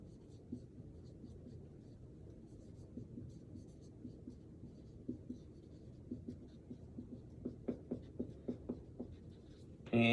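A pen writing physics notes on paper, a soft close scratching in short strokes, with taps and strokes growing more distinct toward the end and a brief louder sound at the very close.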